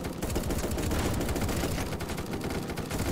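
Sustained gunfire sprays in a competitive video game match, a dense, loud, unbroken rattle of rapid shots that fills the whole stretch with no voices.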